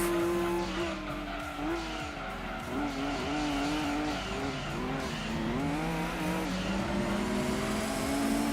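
Race cars including Jaguars, a Dodge Viper and a TVR battle in a Gran Turismo 2 race, with engines droning and rising in pitch through gear changes, tires squealing, and a steady, loud, continuous roar.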